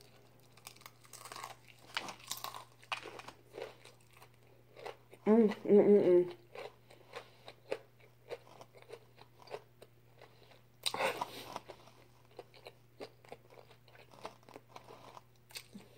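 Crunchy chicken bitten and chewed close to the mic during a mukbang, with loud crackling crunch bursts at mid-clip and again later, amid scattered quieter chewing and a steady low hum, with brief talking.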